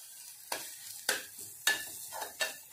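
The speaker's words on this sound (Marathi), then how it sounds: "याला आपण तेलामध्ये छानपैकी ते परतून घेणार आहोत." Spice masala frying in oil for green pea pulao, with a quiet sizzle broken by five sharp scraping stirs of a spoon against the pan at regular intervals.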